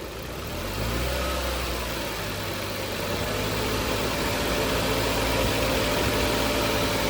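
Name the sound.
Maruti Baleno petrol engine revving when accelerated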